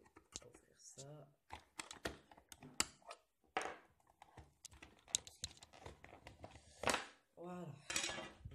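A cheap no-name external 3.5-inch hard drive enclosure being opened, with quiet plastic clicks, scrapes and taps from handling the case at close range.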